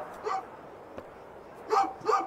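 A dog barks in the video game A Juggler's Tale: one short bark, then two louder barks close together near the end, over a soft steady background.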